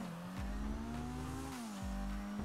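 Engine of a car accelerating in the video game GTA 5 during a parkour race, a steady loud revving drone with two deep pitch drops as it shifts, alone with no talk.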